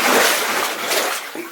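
A short burst of icy water sloshing and splashing up close around waders in a flooded mine, a brief churning swirl that fades out.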